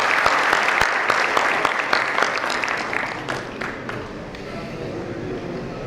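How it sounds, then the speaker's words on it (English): Audience applause for a conference panel on digital frauds and data analytics, a steady dense clapping that fills the room throughout, loud and close, easing slightly toward the end. "a big round of applause for them"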